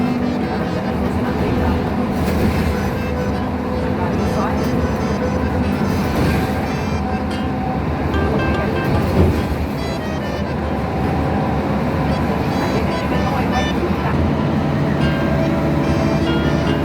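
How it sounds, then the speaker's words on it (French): A car driving into a road tunnel beneath the Beauharnois canal on the St. Lawrence Seaway makes a steady, loud rumble of engine and road noise that carries on throughout, with no talking. "on va rentrer dans un tunnel sous le canal de Bois-Armor qui fait partie de la voie maritime du Saint-Laurent"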